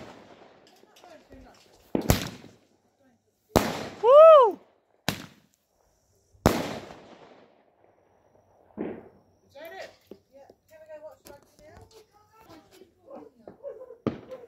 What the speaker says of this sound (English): the neighbor's fireworks over there